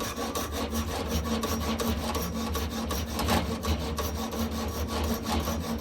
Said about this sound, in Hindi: ये हेक्स ब्लेड यूज कर रहा हूँ और अपनी जो विंडो है, ग्रिल है, इसको काट रहा हूँ।